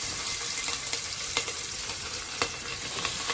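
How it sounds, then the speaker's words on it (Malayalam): Curry leaves, onion, green chilies and garlic sizzle in hot oil in a pan, a steady close frying hiss with a few sharper crackles and pops, no voices. "പാത്രം എടുത്തിട്ട് വെച്ച് എണ്ണ ചൂടായി കരിവേപ്പിലിട്ട് ഒരു സവോള, ഒരു 4 പച്ചമുളക്, ഒരു അല്ലി വെളുത്തുള്ളി"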